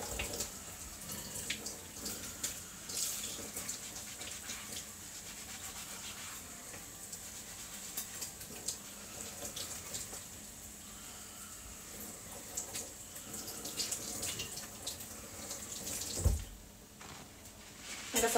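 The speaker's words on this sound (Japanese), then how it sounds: "今のうちにちょっと洗い物するぞ。" Dishes being washed in a kitchen sink under a running tap, with a steady hiss of water and intermittent clinks and rubbing of crockery over about eighteen seconds, fairly quiet and with no talk.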